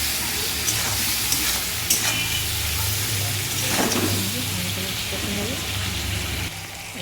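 Mustard seeds, cumin and chili frying with tomato in a pan for a homemade okra and potato dish, giving a steady close sizzle and crackle that runs throughout, with a faint hum underneath.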